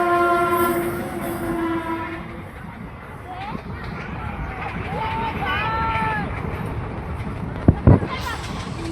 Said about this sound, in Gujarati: રેલવે તૈયાર થઈ ગઈ. રેલવે તમને બતાવું.